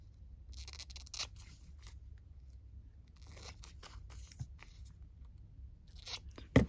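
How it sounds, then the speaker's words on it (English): Paper with a printed image being trimmed down to size with scissors for a junk journal tape-transfer project, snipping in short bursts of quiet crunchy cuts with pauses between, close and fairly soft, ending in a louder clatter. "I need to cut it down though, because yeah, it needs to be cut to size."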